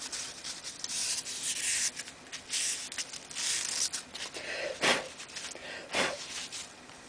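Dust is brushed out of the inside of a firebrick formicarium frame, giving soft, close rubbing and sweeping strokes in short bursts, with a couple of sharper brushes near the end.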